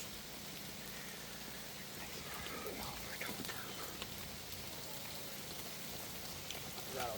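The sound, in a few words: heavy rain falling on a tent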